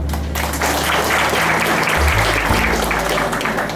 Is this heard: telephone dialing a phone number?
no